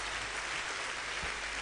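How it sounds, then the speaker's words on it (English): Faint, steady clapping from a church congregation at a miracle convention, a continuous wash of distant hands with no voices over it. "Come on, give God a good clap of you."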